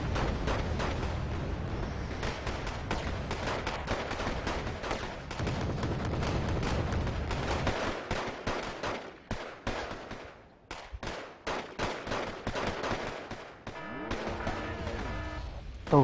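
Heavy cannon fire from Conqueror tanks in Wargame Airland Battle, a dense run of booming shots and explosions with rumbling low end, continuous at first then breaking into separate sharp blasts toward the end.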